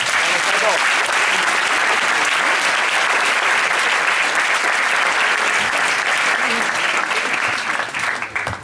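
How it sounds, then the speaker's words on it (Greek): An audience at a researchers' evening event gives a loud, sustained round of applause for Stratos Asimellis, steady dense clapping for about eight seconds before it thins out at the end. "θα ήθελα να δώσετε ένα πάρα πολύ δυνατό χειροκρότημα για τον Στράτο Ασμέλη"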